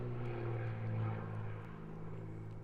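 A propeller aircraft engine drones during an aerobatic rolling loop at a British aerobatics championship, a steady distant hum with slight pitch shifts and no voices.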